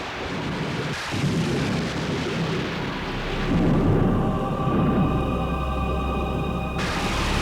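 A stormy night thunderstorm rumbles low and heavy, swelling in the middle into a loud roll over a constant wash of rain-like noise, with a sharp crack near the start.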